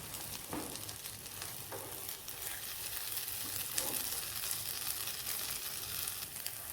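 Beaten egg sizzles and fries in a pan while being stirred and scrambled for an egg semiya biriyani. A steady crackling hiss runs throughout, with occasional soft scraping taps from the stirring.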